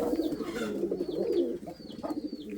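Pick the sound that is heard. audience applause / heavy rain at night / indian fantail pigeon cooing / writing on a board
indian fantail pigeon cooing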